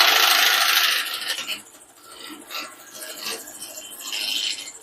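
Wood turning on a lathe as a spindle gouge knocks the sharp corners off a square blank for a seam ripper handle: a loud scraping rasp at first, easing into softer intermittent cutting.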